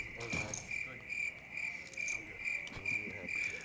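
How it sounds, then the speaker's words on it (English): Crickets chirp in steady, evenly spaced pulses, soft and continuous in the background, with faint voices nearby. "The ghost of the crickets found a way back."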